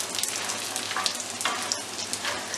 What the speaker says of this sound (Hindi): घी डालेंगे और इसके अंदर फूल मखाने डाल देंगे, और मीडियम फ्लेम पे हम इन्हें फ्राई करेंगे